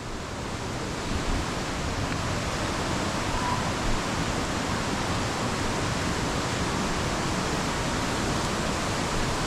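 Tiger Falls waterfall roars as a constant broadband rush of falling water, unbroken and fairly loud from start to finish, with no talking.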